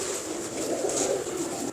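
Pigeons at a pigeon-fancier gathering coo in a steady, continuous murmur close by, with a soft low-pitched throaty burble running through the whole stretch and no talk over it.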